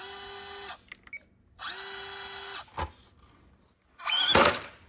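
Brushless motor on a small RC crawler, whining in short bursts at steady pitch that switch on and off with gaps between, close and fairly loud, ending with a harsher noisy burst.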